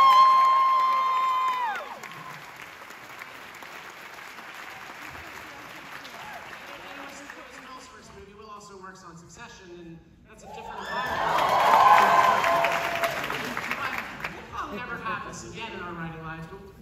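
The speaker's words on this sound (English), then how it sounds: "Can we get a round of applause for that?" Audience applause and cheering at a post-screening film panel for "The Menu" at a film festival, swelling from about 10 to 14 seconds with voices heard before it.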